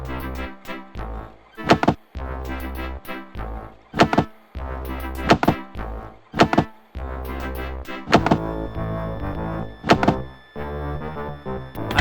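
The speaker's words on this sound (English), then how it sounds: "I've made a dull thud and a dying whine" Repeated dull thuds, each followed by a short falling whine, sound in a steady rhythm from a 1996 video game set outside the blue pens, with tonal game music underneath.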